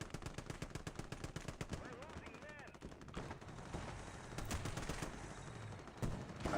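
Sustained automatic fire from a Maxim machine gun in a Vietnam War video game, rapid loud bursts hammering through the first half, then scattered shots with voices shouting and talking amid the battle noise.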